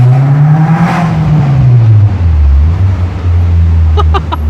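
A Honda S2000 AP2 pulls hard under acceleration, its loud, close engine note climbing and then dropping before settling into a steady drone, with a few sharp clicks near the end.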